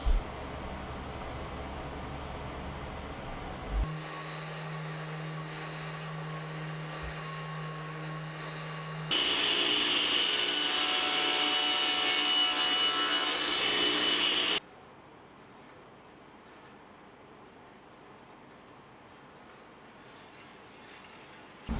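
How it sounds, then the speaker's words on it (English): A drum sander works a scrap wood panel, a steady mechanical whine and rasp running for several seconds, then a louder, brighter grinding burst before dropping to a quieter hum and stopping. "I finally got that panel sanded down"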